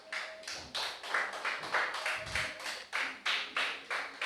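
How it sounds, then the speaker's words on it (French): A church congregation claps in a steady rhythmic beat during an evening service, about two claps per second, fairly faint, with a low voice briefly underneath. "Laisse-nous applaudir Jésus ce soir à l'église."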